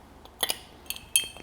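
A large ice rock set into a glass for a Gin Sul Negroni cocktail, a few faint, quick clinks and knocks in a quiet room.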